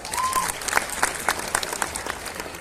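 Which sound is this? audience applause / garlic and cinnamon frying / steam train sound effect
audience applause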